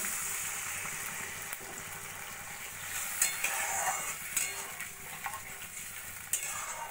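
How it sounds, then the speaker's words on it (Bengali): Water poured into a pan of frying onion and peas masala, giving a steady close hiss and sizzle with light stirring and scraping against the pan, no talk. "এবার দিয়ে দেবো আমি পরিমাণ মতো জল।"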